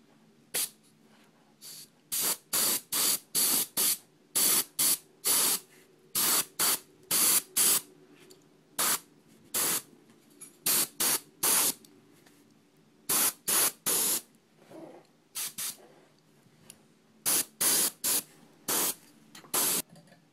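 An airbrush loaded with very light blue paint sprays in short, repeated bursts, each a sharp hissing blast separated by brief near-silent pauses, steady and close without any talking.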